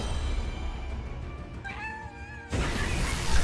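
Cat meow from a card in the video game Elder Scrolls Legends, a short game sound effect with a rising tonal call over a steady backdrop, fairly clear and close.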